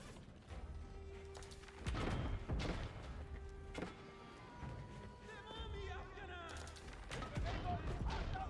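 Bombard cannons firing in the Age of Empires video game, several loud booming shots at irregular intervals layered with clashing battle effects and mechanical clatter, continuous and busy throughout.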